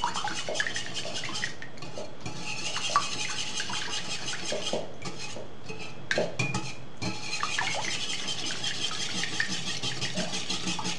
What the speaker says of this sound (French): J'ai ajouté les 3 œufs et bien sûr je vais remuer